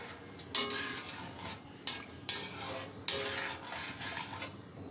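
Ground cumin paste goes into a pan while cooking mustard-paste stalks, with metal spoon clinks and scrapes against the cookware in several short, fairly close bursts separated by quieter gaps.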